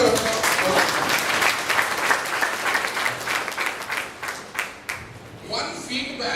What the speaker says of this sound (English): Once more, a huge round of applause.